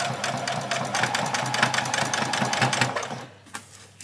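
A sewing machine runs steadily for about three seconds as it stitches a line on an apron, a close, rapid mechanical chatter that stops and leaves a few small clicks.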